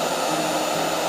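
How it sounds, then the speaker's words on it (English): A hair dryer blows steadily and loudly at close range, used to warm nail wraps during a Jamberry nail application, a continuous even rush of air with no pauses and no voices. "Okay, so that's the hairdryer. It's loud, and you know, but it works."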